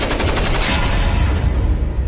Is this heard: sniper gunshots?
yes